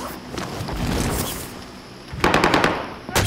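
Machine gun fire from Call of Duty Modern Warfare comes in rapid, loud bursts near the end after a quieter stretch of rumble, sharp and close.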